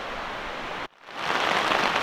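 Rain falling on camping tarps during an evening hike, a steady close hiss that cuts out briefly and then returns heavier and denser.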